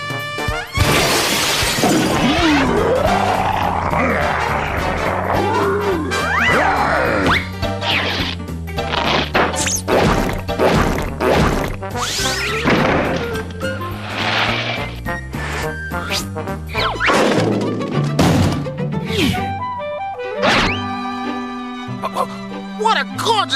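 Cartoon crash and shatter effects as a brick smashes, with a loud breaking burst and clattering impacts over a music score, and voices and barks mixed in throughout.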